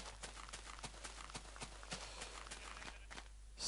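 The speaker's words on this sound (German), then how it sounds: "Ich renne jetzt halt so ein bisschen planlos durch die Gegend rum" Rapid footsteps of a player character running across the ground in Minecraft, a quick steady patter of short thuds at close range with no talk, ending in a brief louder swell.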